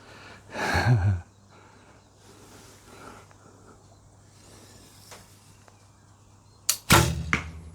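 A Hoyt Aerotec bow shooting an arrow at a target: a sharp release with a short low humming thrum, a quiet stretch with faint rustling, then a second loud snap and thud near the end, close and without talk.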